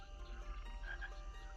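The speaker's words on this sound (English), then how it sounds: "You hear frogs and insects and like cicadas waking up for the night" Night ambience from a misty fantasy tabletop setting, with frogs croaking amid insects and cicadas: a dense, steady chorus of faint chirring and croaks layered over a low rumble, distant and continuous.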